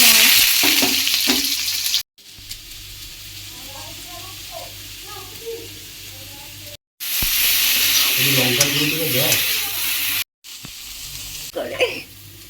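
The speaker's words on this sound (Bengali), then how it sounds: "এটা কুন্দ্রি ভাজা হচ্ছে" Ivy gourd (kundri) fries in a pan with a loud, continuous sizzle broken by a few short silences, while a person talks over the cooking.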